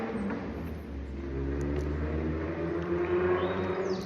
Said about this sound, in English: is that engine revving for confirmation?